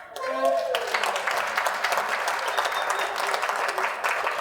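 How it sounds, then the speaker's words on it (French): Warm, sustained clapping from an audience at a testimonial gathering, rising quickly after a brief voice at the start and then holding steady and fairly loud throughout. "Et je veux qu'on applaudisse le MRA."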